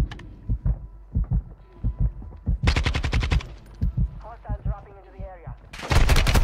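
Single-fire gunshots in an online shooter game ring out as a string of separate, evenly paced cracks, loud and close, with bursts of noise between and a voice speaking over them.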